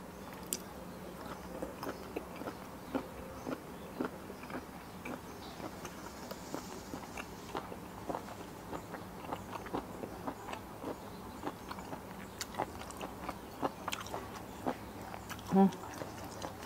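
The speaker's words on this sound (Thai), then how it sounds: "หนังยำยังกึดๆดีครับฟังเสียงเด้อ" Crunchy skin in a spicy Thai squid salad being chewed close to the mic, a steady run of soft crisp crunches and clicks repeating every second or so.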